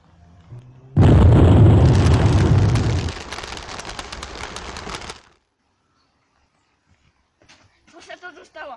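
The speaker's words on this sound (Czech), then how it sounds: "Pane, slyšeli jste ten výbuch?" A loud explosion bursts suddenly and rolls into a long, rumbling decay that fades out after about four seconds. Near silence follows, then brief voices.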